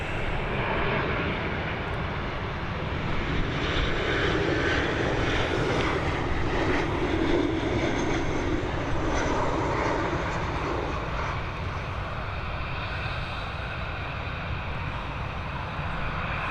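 British Airways airliner at Dublin Airport, a strong sustained jet engine roar holding steady throughout, fairly close and loud, with no talk.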